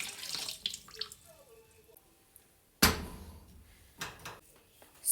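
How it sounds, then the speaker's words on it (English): Water pours from a faucet into a pot of white chicken chili, a brief trickle followed by a louder gush and some splashing clatter with faint background voice. "I'm going to add a little bit of water."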